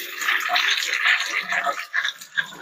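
Soybeans rinsed under a running tap, a close, steady splashing rush of water with shifting bursts as the beans are stirred in the stream.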